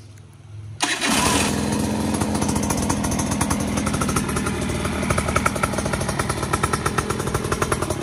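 A dirt bike engine, a 2022 GasGas fitted with an electric starter kit, catches after a brief starter whir and settles into a steady, close, loud idle with a buzzy rapid pulsing.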